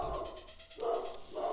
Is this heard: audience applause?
no